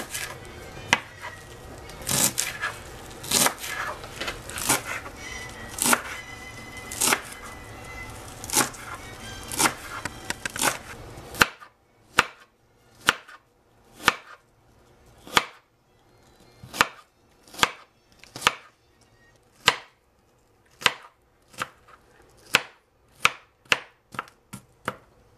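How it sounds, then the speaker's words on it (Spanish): A knife finely chopping cilantro on a cutting board, a fast run of crisp taps that slows into sharp evenly spaced chops near and clear, with no talk. "Un picado fino."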